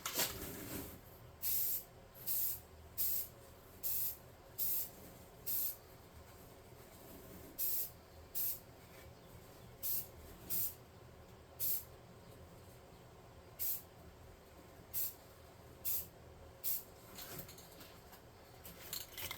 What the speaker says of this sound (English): I'm just using Rust-Oleum 2x Ultra Cover Paint and Primer Flat Black.